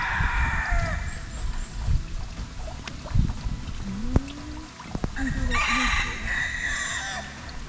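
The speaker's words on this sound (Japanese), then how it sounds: "苦しそうに鳴く鶏を発見しました" A free-range rooster beside a windy bridge on a mountain pilgrimage road in Shikoku crows in a strained, hoarse voice at moderate distance, with wind noise throughout and faint voices around it.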